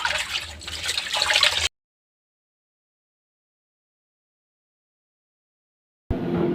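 Water splashes onto a rat-damaged garment being prepared for red dye, a steady wet pour for under two seconds, then silence, with the splashing briefly returning at the end.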